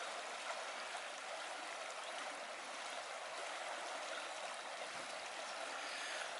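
The small River Froome in the Herefordshire countryside rushes in a steady, broad hiss of flowing water, constant and fairly near with no voices.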